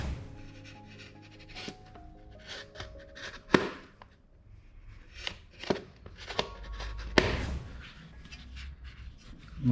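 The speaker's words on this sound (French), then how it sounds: "maintenant je vais couper au couteau" Knife cuts through material by hand while a diesel air heater is being fitted into a portable box, giving sharp irregular snaps and scraping strokes, close and fairly loud, with no talking.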